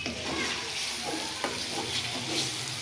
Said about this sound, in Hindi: इसमें ये सब्ज मिर्चें डाल रहे हैं